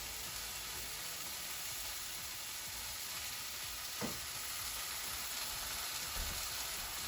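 Vegan egg substitute hits a hot pan over vegetables for an omelette, giving a steady, even sizzle throughout with a single soft click midway and a faint knock near the end.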